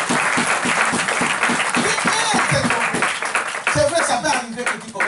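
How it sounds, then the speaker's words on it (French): A church congregation breaks into loud, dense applause and cheering during a sermon, continuous clapping filling the room at close range throughout, with some voices mixed in. "Oh, donnons une acclamation."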